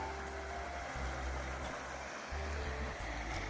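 A heavy river in St. Ann, Jamaica roars continuously with a broad, steady wash and a low rumble underneath, no voices over it.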